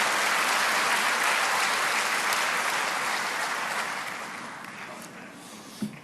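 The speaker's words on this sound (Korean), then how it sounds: "우리 박수로 감사하는 마음으로 환영하는 말씀 듣겠습니다" A church congregation applauds to welcome a visiting 73-year-old elder pastor during a Holy Week evening service, a dense sustained clapping that holds loud and then gradually fades out near the end.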